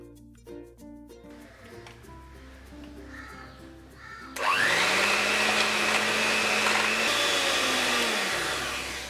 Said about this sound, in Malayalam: ഒരു ബൗൾ എടുത്തിട്ട് ഇതിലേക്ക് 3 മുട്ടയും ഉപ്പും ചേർത്ത് ഇതൊന്ന് ബീറ്റ് ചെയ്തെടുക്കാം